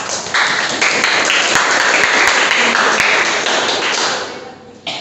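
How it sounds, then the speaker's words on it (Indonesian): Classmates applaud in a school classroom during a civics quiz, a few seconds of lively clapping with some sharp individual taps standing out, trailing off near the end. "Oke, tepuk tangan."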